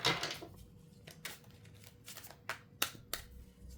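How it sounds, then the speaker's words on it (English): Tarot cards shuffled by hand in a quiet room, giving a few soft riffling bursts and sharp flicks spaced irregularly, close and fairly faint, with no talking. "Let me give it one more shuffle."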